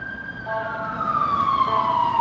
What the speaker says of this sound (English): That's just an ambulance.